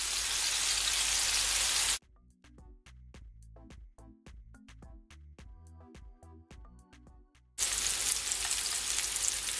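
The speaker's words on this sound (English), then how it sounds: "I'm gonna allow it to fry, guys, for at least 3 to 4 minutes on each side" Honey jerk salmon frying in a pan, with a steady loud sizzle at the start and end and a quieter stretch in between carrying crackles and short clicks, with no talking.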